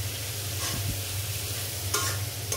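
Spiced fried food being stirred in a pan, a steady low sizzle with a few scraping strokes of the spoon, close and continuous, with no voices.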